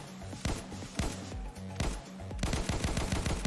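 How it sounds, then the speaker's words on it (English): Rapid gunfire from an unscoped firearm in a video game, loud sharp shots coming in quick bursts, turning into a faster continuous string near the end. "Oh, you can shoot faster when you're not scoped?"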